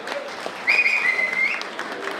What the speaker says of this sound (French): On peut vraiment applaudir Authentica, ses bénévoles et la nouvelle présidente d'Authentica.